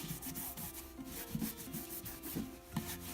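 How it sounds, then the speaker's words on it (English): Wax being rubbed by hand onto a wooden chalkboard frame gives a steady close-up scrubbing friction, with soft repeated strokes that swell a little at intervals. "So we're gonna get more wax, and we're gonna start rubbing that on."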